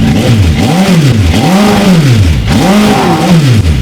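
A 2007 Suzuki Bandit 1250 motorcycle engine that is reluctant to reach high RPM revs loudly up close, rising and falling in about four repeated throttle blips with no talking.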